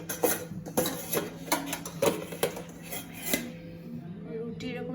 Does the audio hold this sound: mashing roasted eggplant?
yes